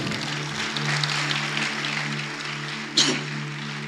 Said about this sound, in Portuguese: eu gostaria que você aplaudisse o Senhor pela vida do pastor Luiz Hermínio